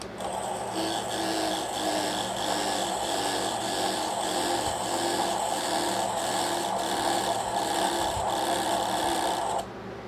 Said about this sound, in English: You can wind your bobbin a few turns ahead of time after you put the tag end on. Push start.